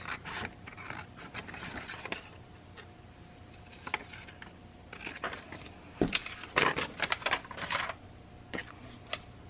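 A Teflon bone folder burnishes down paper or cardstock in a papercraft project, giving soft scraping rubs in short irregular strokes, close and quiet, with a brief busier patch of rustling midway.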